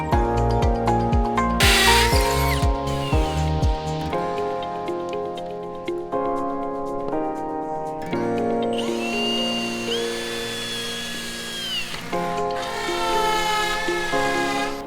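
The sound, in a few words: regular drill drilling into concrete to secure walls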